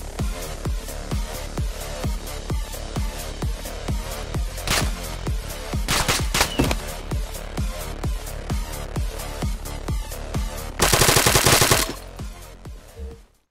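Rapid bursts of automatic gunfire ring out in Arma 3, a fast rhythmic stream of loud shots with a few heavier cracks and a dense blast near the end, no talking over it.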